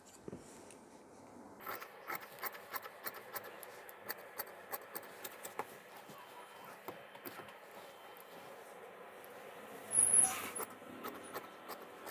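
Scissors snip through fabric while cutting the back panel of a tailored shirt, a steady series of short, crisp cuts at close range, with a louder rustle of cloth near the end and no talking.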